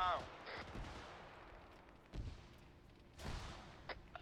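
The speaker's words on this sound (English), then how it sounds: "Frag out!" A frag grenade blast in ArmA 3 during a squad assault: several dull booms and thuds at irregular intervals, fairly quiet and distant-sounding, set against faint background voices.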